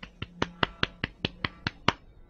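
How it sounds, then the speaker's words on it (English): A slow, polite golf clap of about ten crisp, evenly spaced hand claps, close and fairly quiet, with no talking. "We just tend to do a very slow golf clap."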